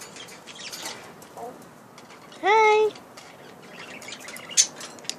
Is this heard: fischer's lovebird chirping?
yes